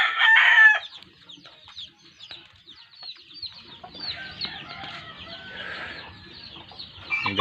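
A rooster crows loudly at the start, then domestic chickens cluck and chatter nearby on and off outdoors near mountains, with the crowing returning near the end.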